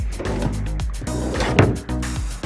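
Hotel room dresser drawers at a Crowne Plaza near Los Angeles Harbor, slid open and shut several times in quick succession, with close wooden scrapes and knocks.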